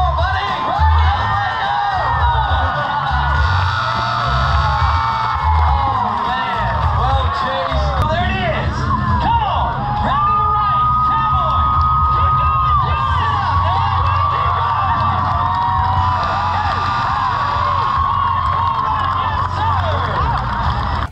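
A rodeo crowd cheers, whoops and shouts for young bull riders in a busy arena, a loud, continuous roar of voices with high calls and whistles, while someone talks nearby.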